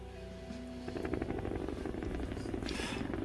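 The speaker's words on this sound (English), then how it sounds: "we have a wonderful helicopter cam here with that sound effect" A helicopter sound effect throbs with a rapid, steady rotor chop that grows louder after the first second and holds at a fairly close, moderate level.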